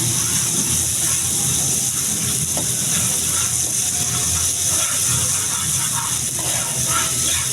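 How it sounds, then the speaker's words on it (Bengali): Water splashed into a hot pan of sizzling spinach with turmeric and salt gives a loud, steady hiss of steam that holds unbroken from start to finish. "এবার আমি একটু পানি দিয়ে কষাই নেব ভালো করে।"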